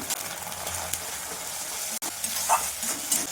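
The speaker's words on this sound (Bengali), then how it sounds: "তেল ছিটকাচ্ছে তাই একটু লবণ দিয়ে দিলাম।" Hot oil spatters and sizzles steadily in a pan holding ginger-cumin paste, whole cumin, green chillies and turmeric for a Bengali paneer and chickpea curry, a continuous close frying hiss with one brief break.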